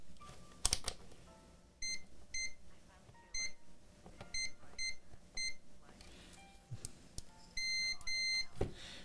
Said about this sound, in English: Can you hear the beeping?